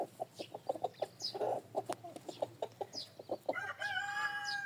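Chickens outdoors clucking in a steady rhythmic series of short calls close by, with a rising drawn-out squawk near the end.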